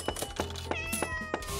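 A cat meows in a flower-shop video game, several short bright meows between sharp clicking taps, close and clear against a low background hum.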